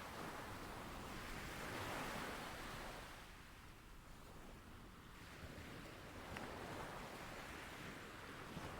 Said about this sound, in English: The waves roll in.